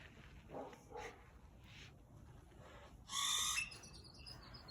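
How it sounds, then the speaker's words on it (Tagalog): Bird calling in a backyard, a few faint short calls early on followed by one louder, brighter burst of calling, heard at a distance over a quiet outdoor background. "Maingay yung ibon ah."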